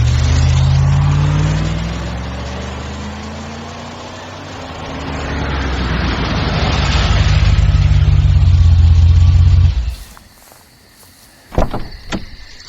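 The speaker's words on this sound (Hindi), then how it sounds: "गाड़ी बढ़ा।" A car engine revs and pulls away, its rising whine loud at first, then the drive steadies before the sound cuts to near silence broken by a few faint clicks and knocks.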